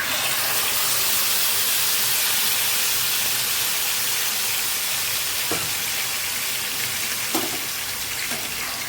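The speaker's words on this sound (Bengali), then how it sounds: "এই মাখা মাছটা আমি এখন তেলের মধ্যে দিয়ে দেব" Katla fish coated in salt, turmeric, cumin, mustard, onion and garlic paste fries in hot oil with a loud continuous sizzling hiss, and a few faint utensil taps come near the end.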